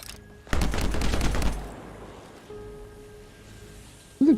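Rapid burst of gunfire lasting about a second while shooting frozen enemies in the game Anthem, followed by a quieter ambient hum, a brief tone and a sharp effect sound at the end.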